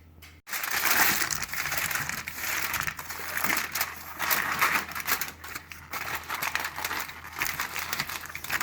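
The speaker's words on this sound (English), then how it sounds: "put some tin foil over the top of this" Tin foil pressed and folded over a potato casserole dish before it goes into a 350-degree oven, producing a continuous close crinkling and crushing rustle that starts abruptly and continues without pause, with no one talking.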